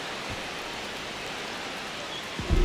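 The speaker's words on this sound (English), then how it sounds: "the field's not going to be able to hold up if the rain gets any worse than this" Rain falls on a ballpark field in the MLB The Show 26 baseball video game, a steady broadband hiss that holds throughout, with a brief low thump near the end.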